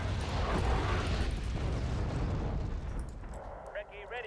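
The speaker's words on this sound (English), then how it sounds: "artillery fire coming in from that position" Artillery fire in the real-time strategy game Wargame: Red Dragon, British Army forces under bombardment: a continuous loud rumble of shelling and blasts fills the battlefield, easing toward the end as a few brief tonal game sounds appear.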